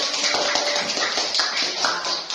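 A group audience claps together in a dense, continuous burst of applause indoors, loud and even throughout with no voices standing out.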